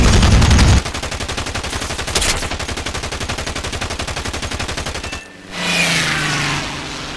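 Rapid bursts of 20mm gunpod cannon fire from a Ju-87 D-5 Stuka in War Thunder, a dense rattling stream lasting several seconds over steady engine drone, then cutting out into a rushing whoosh of airflow.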